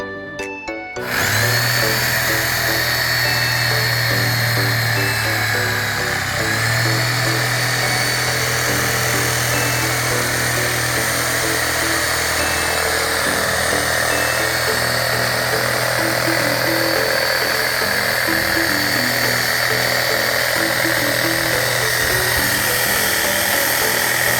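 A power tool cuts material for a low-cost raised vegetable bed, giving a loud, continuous whine that starts abruptly and holds nearly steady for over twenty seconds, close and without talk.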